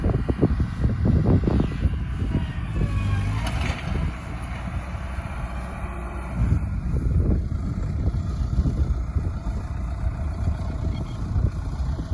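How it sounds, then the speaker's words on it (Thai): A four-wheeler driving fast across a sheep farm in Australia, its engine droning steadily and fairly close throughout, with rough broadband rumble and some shifts in pitch, and no talking. "รถสี่ วิ่งเร็วมาก"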